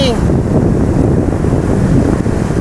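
Tidal sea waves surging onto the shore where fishermen cast nets, heard as a loud continuous wash of surf mixed with heavy wind buffeting the microphone, with no clear separate breakers.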